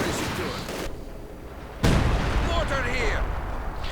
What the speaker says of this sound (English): And then a grenade.